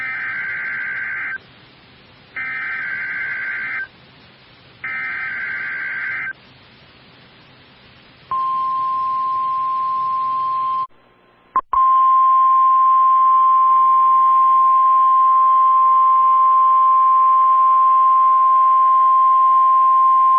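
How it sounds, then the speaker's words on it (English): A National Weather Service weather radio warning alarm test: three short pulsed beeps, then a long, loud, steady single tone that runs on uninterrupted for about nine seconds. "You have just heard a test of the National Weather Service radio warning alarm feature."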